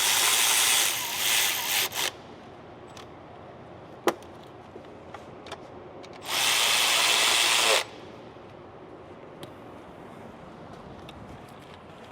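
A power drill drives bolts on a Ford 6R140 transmission in two loud, close bursts of whirring a few seconds long. Sharp clicks and clinks of tools and parts come between them, with no talking.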